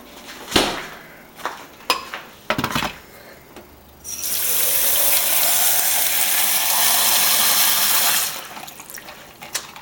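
Ice cubes drop into a cup as a few sharp, separate clinks and clatters, followed by a long, loud, steady rush of tumbling ice, then a couple more knocks.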